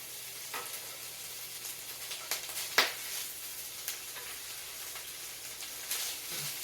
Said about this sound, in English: Now I'm going to go ahead and add these kielbasa